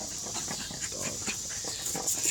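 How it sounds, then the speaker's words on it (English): A dog named Dobby snorting and panting close by in a series of short, breathy, irregular puffs, with no talking. "You hear the snorting?"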